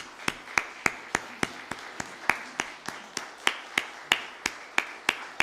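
A church congregation applauds during a Sunday service, giving steady, evenly spaced claps that ring out crisply in a reverberant room, fairly quiet overall.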